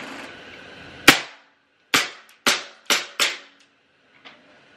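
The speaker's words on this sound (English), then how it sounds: "I'm shooting my trash can right now." A small Glock BB pistol fired at a trash can: five sharp, close snapping shots in quick succession, each with a short rattle, followed by a faint click.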